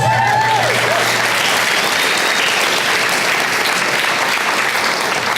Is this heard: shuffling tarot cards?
no